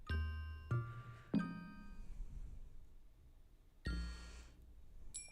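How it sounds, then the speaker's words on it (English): A ringing alarm-style chime sounds in a handful of bright, bell-like dings, two close together at the start, another shortly after, then a pause before a longer ring and a final short ding, fairly close and clear. "which alarm is going off now?"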